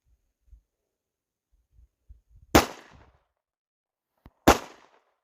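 Two sharp Glock 19 pistol shots ring out a couple of seconds apart, each a loud crack with a short echoing tail, among faint small clicks and taps that could be ejected shells landing.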